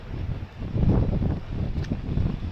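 Strong amihan wind buffets the microphone outdoors by the water with a steady low roar and rustling, swelling louder midway, and no voices heard.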